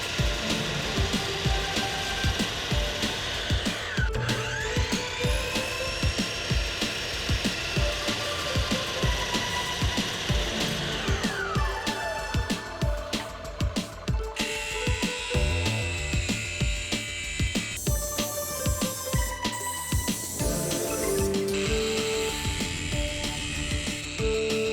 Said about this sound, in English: cut the latch opening using the miter saw and grinder